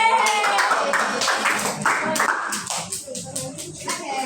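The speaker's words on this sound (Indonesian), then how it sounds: "tepuk tangan dulu untuk dia" A class claps hands in steady, brisk applause for a few seconds during a practice-teaching exam, close and fairly loud, with voices mixed in.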